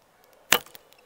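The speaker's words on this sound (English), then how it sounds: "so the bow gets loud with these lightweight arrows" A recurve Ottoman short Sipahi hybrid bow from Simsek Bows released with a lightweight arrow, giving one sharp, close thwack followed by a brief rattling decay, isolated in quiet.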